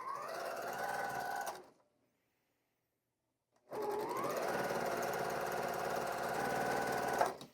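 A sewing machine stitches a scrap quilt along the edge of the presser foot. Two close, steady runs of rapid stitching are split by a couple of seconds of silence.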